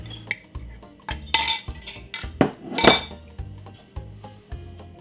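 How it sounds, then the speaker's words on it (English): A fork beats three eggs in a bowl for a Christmas pudding, giving quick rhythmic clinks and scrapes against the side of the bowl, fairly close and with a few louder strikes. "just use a fork and beat your egg"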